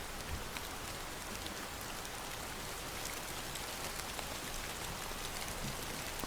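Steady rain falls evenly, a dense hiss of drops with no pauses, moderately soft and constant from start to finish.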